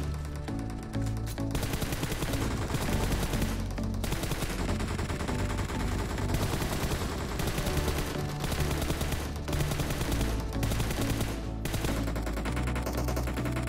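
Rapid automatic gunfire in PUBG Mobile while crouched and scoped at a target, continuous loud bursts layered over game music and ambience with no pauses.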